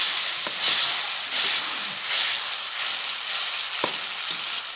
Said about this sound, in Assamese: এতিয়া মই মিক্সিত পিচি লোৱা অকণমান সৰিয়হ দি দিছোঁ আৰু লগতে বিলাহী দি দিছোঁ।